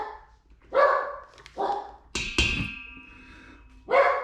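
Zeus the dog barks excitedly over cookies in a home kitchen: several sharp separate barks spaced a second or two apart, close and fairly loud, with a brief clatter between them.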